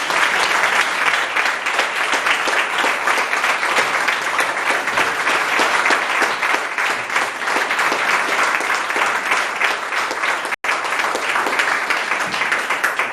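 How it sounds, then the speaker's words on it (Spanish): Audience applause at an informal talk, a dense steady round of clapping from a group lasting the whole stretch at even loudness, with one brief cut near the end. "Pues un gran aplauso"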